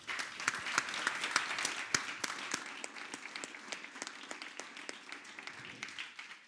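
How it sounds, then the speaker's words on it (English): An audience applauds the panel speakers after an education discussion on classical schooling, with a steady patter of many hands plus sharp individual claps standing out near the microphone, gradually thinning toward the end. "Big applause, please."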